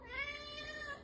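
A house cat meows in a drawn-out, rising and falling tone, close and moderately loud, with no talking.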